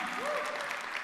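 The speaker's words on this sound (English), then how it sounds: "we do need another round of applause to all of ourselves" A conference audience at a Dubai blockchain summit claps in a brief, faint burst of dense applause, with a voice briefly audible.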